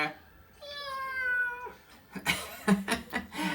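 A small adopted cat gives one clear, drawn-out meow close by indoors, followed by several sharp clatters and knocks.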